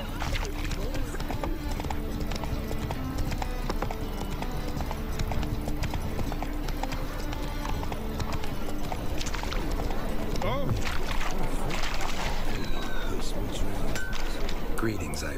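Hooves of Geralt's horse Roach in The Witcher 3 clop in a fast, regular galloping rhythm, close and steady, with tack jingling and a voice speaking over the run.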